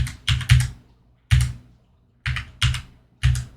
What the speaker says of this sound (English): use my arrow key on my keyboard, and just go down like this